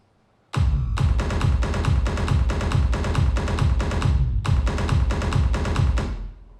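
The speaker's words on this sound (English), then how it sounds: "if you put the bass line only here in the drop, it sounds like this" A punchy electronic bass line pulses in a driving rhythm, loud and up front, with a brief gap before the pattern resumes.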